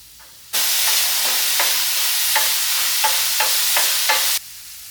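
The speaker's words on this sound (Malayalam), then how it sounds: "ഉള്ളിയും പച്ചമുളകും നമുക്ക് വഴറ്റിയെടുക്കാം." Onion and green chilli hit hot coconut oil with a sudden loud sizzle that holds steady for about four seconds, with several stirring scrapes along the way, then cuts off.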